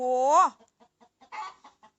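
A chicken gives a drawn-out squawk, then a run of short soft clucks, close by with no other sound.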